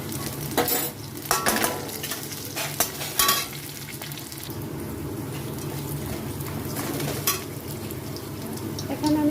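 Ginger paste is added to frying onions and stirred in a pan: a few scraping, clinking spoon strokes over a continuous sizzle that settles into a steady hiss.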